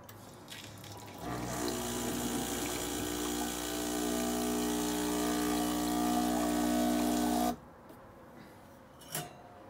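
A Breville BES900XL espresso machine pump drones loudly while hot water streams out for several seconds, then cuts off abruptly, leaving a faint click.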